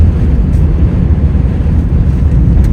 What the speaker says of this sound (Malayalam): അതാ കാറ്റടിക്കുന്നത്, കാറ്റ് പിടിക്കണതാണ്